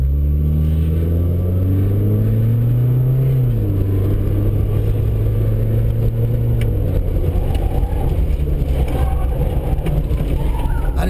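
A car on a driving school course revs hard, its engine tone climbing, dropping at a shift, then climbing again, loud and close throughout with no talk.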